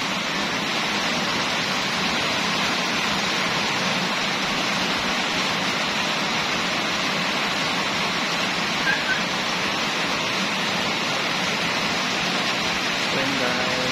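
Heavy rain pours down in a dense, constant hiss with no breaks, loud and close, on a Sunday afternoon in August.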